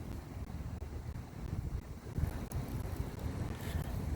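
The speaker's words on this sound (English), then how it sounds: "I'm kind of waiting for the wind to die down just a touch" Steady outdoor wind rushes and buffets the microphone with a constant low roar, while a Hubsan Zino Pro Plus drone waits on the ground and no one speaks.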